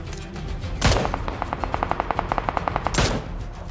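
Gunfire from the video game PUBG Lite: two heavy booming shots bracket a rapid, evenly spaced burst of automatic fire, loud and close with no talk over it.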